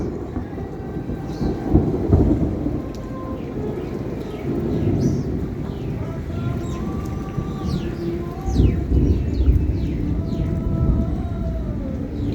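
Low thunder rumbles roll through a steady rural downpour, with a heavier clap near the start and another later, while birds chirp and coo nearby throughout.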